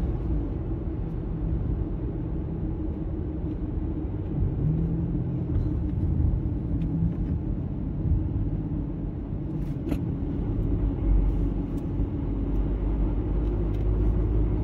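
A car drives along a road, heard from inside as a steady low rumble of engine and tyres lasting throughout, with no voices over it.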